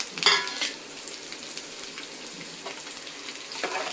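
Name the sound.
ginger and shallots sautéing in oil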